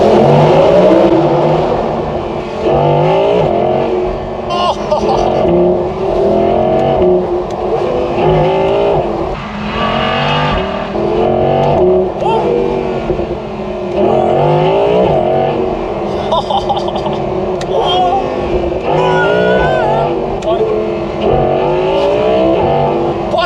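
Audi R8 V10 Performance, roughly 600 horsepower, with a manual-style gearbox, revving hard off the limiter through repeated loud rising engine sweeps, near and continuous with pops, heard from inside the car with occasional faint talk.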